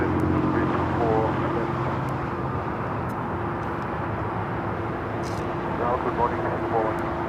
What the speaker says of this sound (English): Spirit flights coming from Dallas, Fort Worth, Texas, flight 908, A321, now heading to Terminal 5 here on the south side.